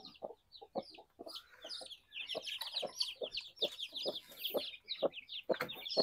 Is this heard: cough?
no